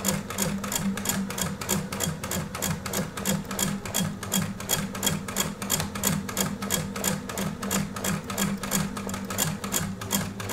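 A home sewing machine stitches fabric in a fast, steady, mechanical rhythm that runs continuously and close up, with no talking.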